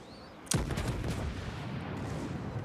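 Secondary battery guns of a warship in World of Warships fire with a sharp loud boom, followed by rolling rumble and a dense wash of battle noise.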